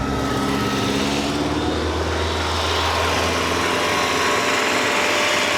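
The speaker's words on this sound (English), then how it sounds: "See what the idle is doing? She needs that idle control valve." A Saab car engine idles roughly, apparently needing a new idle control valve, producing a loud, continuous low rumble with a steady mechanical drone and no voices over it.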